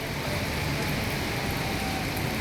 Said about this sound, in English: You can just see the individual showers of rain right here.